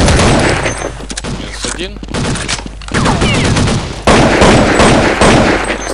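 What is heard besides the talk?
scout rifle gunshots in a PvP video game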